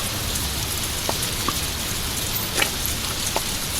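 A steady, dense downpour of heavy rain fills the scene, with a few sharper drops ticking out of the continuous wash. No voices are heard.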